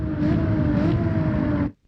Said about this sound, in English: each downshift you hear the rev range be quite high